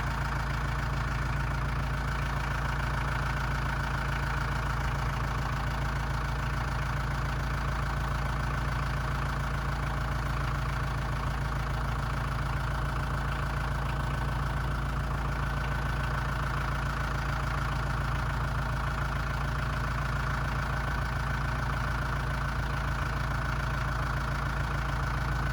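A tractor engine idles steadily at close range, a low continuous rumble with a faint knocking pulse that holds unchanged throughout, no voices.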